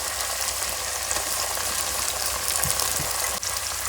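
Onion frying in hot oil in a pan for masala khichdi, cooked outdoors under a neem tree, with a steady close hiss of sizzling and faint stirring clatter throughout, no voices.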